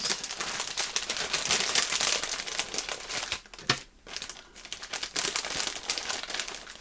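A big plastic bag of stickers is rummaged through up close, producing continuous loud crinkling and rustling of plastic with a brief lull midway before the crackling resumes.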